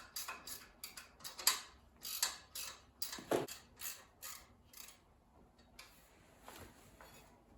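A ratchet wrench works loose the bolts of a car's front subframe, with bursts of quick clicking strokes and metallic creaks in an uneven rhythm, close and moderately loud, with brief pauses between pulls.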